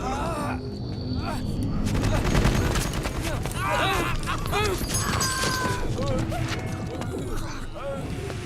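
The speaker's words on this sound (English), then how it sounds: "Look at the way they can't hit each other at that distance with rifles" Bursts of rifle gunfire in Metal Gear Solid 4 crackle repeatedly at mid distance amid game effects, with a voice talking over the shooting.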